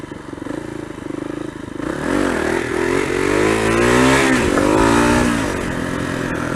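KLR motorcycle engine accelerating hard and shifting into second gear, a loud close rising rev that drops at the shift and climbs again, with some rattling clatter.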